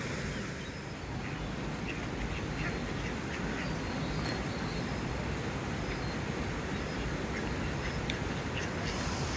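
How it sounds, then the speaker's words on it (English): Ducks quack by a brook on a coastal day out at Dawlish, scattered calls over dense running water, moderately close with a busy noisy backdrop. "Lovely, normal ducks too."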